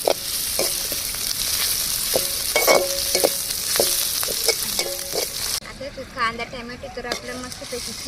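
Tomatoes and garlic fry in a pan over an outdoor cooking fire on a riverbank, a steady broadband sizzle with intermittent stirring scrapes, loud and close throughout, the tone shifting slightly partway through.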